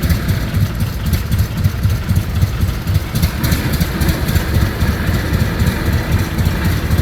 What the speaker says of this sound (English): We got a 1941 Ford N tractor.